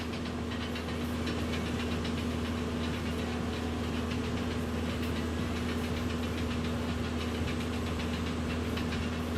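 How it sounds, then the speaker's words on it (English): A flight simulator's aircraft engine clicks with a rapid, steady repeated ticking over a constant droning hum, with the generator running, for the whole stretch and no talking. "the click, click, click you hear is the engine"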